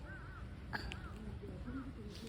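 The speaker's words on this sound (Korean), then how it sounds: "까치가 앉아 있어?" A magpie gives a few short, arching calls at a distance, faint against steady outdoor background noise at a resort.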